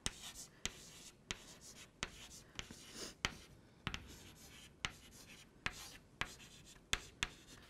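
Pen strokes on a board or paper during a maths lecture on probabilistic number theory, a steady series of sharp, close scratching taps about every half second, alone without talk.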